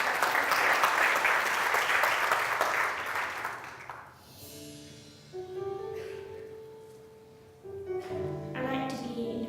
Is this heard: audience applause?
yes